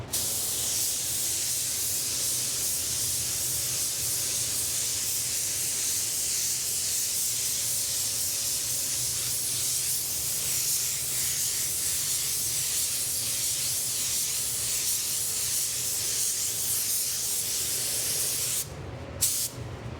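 Spray gun laying down a Spies Hecker Hi-Tec paint blend coat, a steady, close, continuous hiss that holds for nearly the whole span before breaking off near the end.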